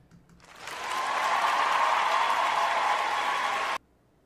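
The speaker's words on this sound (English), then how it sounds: "A very sarcastic applause" Applause from a small group, meant sarcastically, rises after a brief lead-in, holds as a steady even patter for about three seconds and then cuts off abruptly.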